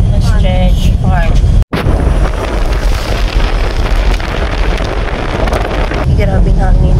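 Strong wind buffets the microphone outdoors on the way to an ostrich farm in Boracay, a loud continuous roar with brief voices at the start and end and one short dropout.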